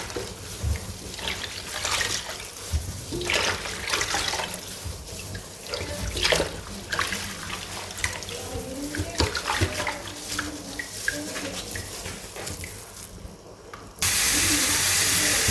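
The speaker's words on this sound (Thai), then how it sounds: "ล้างน้ำรอบที่หนึ่งนะคะ" Kaffir limes being rinsed under running water, a continuous close splashing and trickling with occasional clatter, ending in a sudden steady gush of water.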